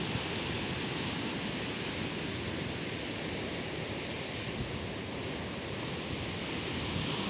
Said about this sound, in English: Lovely rain coming in, light to heavy rain,